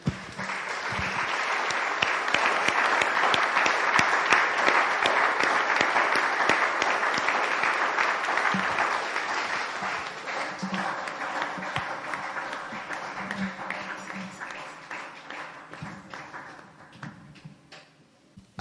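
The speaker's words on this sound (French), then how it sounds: "Une offrande d'acclamation au Seigneur." A church congregation at an evangelical service applauds as an offering of acclaim to the Lord, dense sustained clapping that stays loud for many seconds and then gradually thins and fades near the end.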